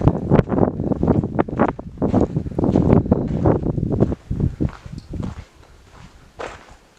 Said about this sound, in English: It is quite windy inside